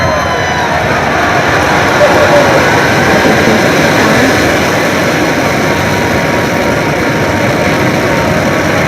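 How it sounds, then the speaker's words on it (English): Falcon Heavy rocket engines roaring at ignition and liftoff: a loud, continuous, broadband rumbling roar that holds steady throughout, with a voice faintly under the noise. "Ignition, liftoff."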